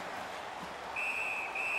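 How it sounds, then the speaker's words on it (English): A referee's whistle blows in the NHL 18 hockey game: two shrill, steady blasts, the second following the first after a short gap, over a soft arena crowd murmur. "Puck covered, whistle blown."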